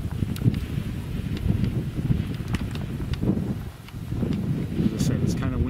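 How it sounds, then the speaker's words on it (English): Outdoors on a windy birdwatching day, wind buffets the microphone with uneven low rumbling gusts over several seconds, and a voice talks faintly underneath. "As I said, it's kind of windy today."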